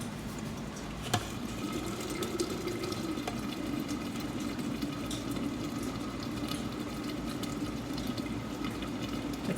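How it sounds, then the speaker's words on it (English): Apple butter simmers in a pot, giving off a low, steady bubbling and soft popping close by, with faint kitchen clatter and no talk. "listen, see if you can hear it bubbling."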